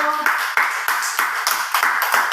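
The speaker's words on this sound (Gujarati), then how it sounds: "તો જોગીભાઈ માટે એક તાળી પાડી દો બધા બાળકો" A group of children at an Anganwadi preschool clapping in unison for a classmate, with loud, rhythmic claps in steady beats, close and clear.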